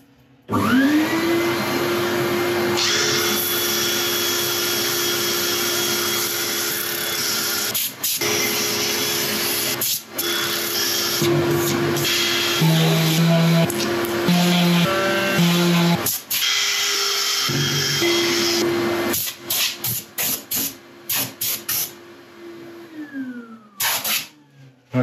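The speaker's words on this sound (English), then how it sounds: "I'm going to set up for sanding" A wooden maze bowl is sanded on a woodturning lathe in a hot workshop, giving a loud, continuous whirring hum with a steady tone and brief pitch shifts, breaking off sharply at times and winding down near the end.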